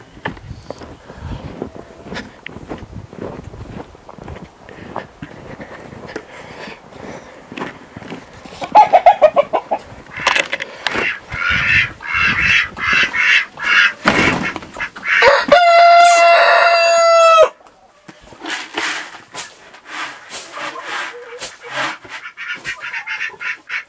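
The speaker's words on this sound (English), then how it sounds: "We've got to feed the chickens." Chickens cluck and a rooster crows amid farmyard clatter, with a loud burst of squawking near the middle before quieter clucking resumes.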